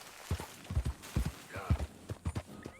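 A horse in the video game Red Dead Redemption 2 walks at an easy pace, its hooves clip-clopping in a steady, soft rhythm on the ground.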